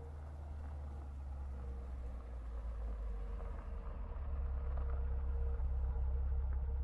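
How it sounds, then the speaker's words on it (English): Low engine rumble of a car approaching in a horror video game, a steady drone that grows gradually louder over several seconds, with no speech. "I hear a car approaching."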